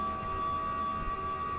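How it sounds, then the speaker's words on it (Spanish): An alarm siren in the video game Resident Evil Revelations 2 on PS4 holds a steady, unbroken wailing tone at moderate loudness for the whole stretch, with no voices over it. "¡Que alguien apague la puta sirena!"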